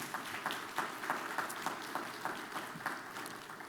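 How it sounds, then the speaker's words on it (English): Sparse audience applause at a school district board of trustees meeting, a small group clapping in a loose, fairly regular rhythm, faint and somewhat distant. "Please give them a round of applause."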